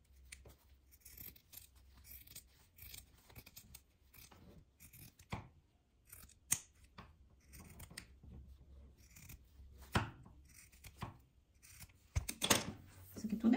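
Scissors snipping the corners off a small sewn fabric piece made from scraps, a series of sharp, brief cuts scattered at irregular intervals, close and fairly quiet, with no talking.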